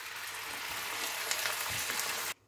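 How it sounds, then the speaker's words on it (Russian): Minced beef with a tomato base frying in a pan, a steady soft sizzle and crackle for about two seconds before cutting off abruptly. "фарш опять отправляю в сковороду, добавляю помидорную основу"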